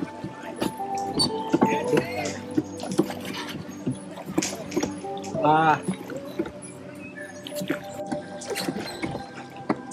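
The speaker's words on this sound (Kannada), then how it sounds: "ಈಗ ಹೋಗ್ತಾ ಇದೆ ಬೋಟ್ ನೋಡಿ" A safari boat at Bannerghatta National Park moves across water with a low steady hum and soft lapping, while voices chatter nearby on a hot sunny day.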